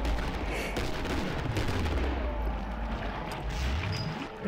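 An M9 fired rapidly in the video game Killing Floor produces a steady stream of close, punchy shots layered over constant game noise and low rumbling.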